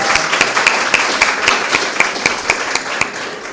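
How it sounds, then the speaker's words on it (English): Audience applause for school debaters at an inter-schools debate competition, a steady round of clapping from a moderate crowd with evenly spaced sharper claps, loud and close. "Debaters, let's give them a round of applause"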